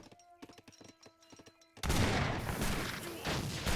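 Age of Empires 3 battle: a rapid scatter of sharp clicks and musket cracks, then a sudden loud grenade explosion launching a dense, sustained rumble of blasts and gunfire.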